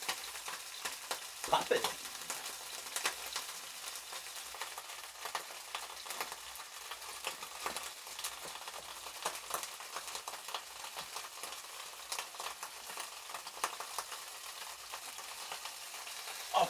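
A beef roast sears in a hot pan, giving a steady, close crackling sizzle with busy popping throughout and a brief louder burst near the start.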